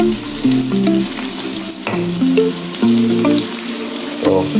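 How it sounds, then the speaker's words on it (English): Pork hits a pot of hot oil with pepper for ackee, frying loudly up close, with a thick sizzle and clattering spoon knocks against the pot; background music plays underneath and no one speaks. "And then now I go add in my pork"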